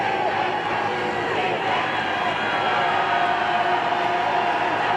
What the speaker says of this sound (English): that crowd's really getting into it. They're making some noise.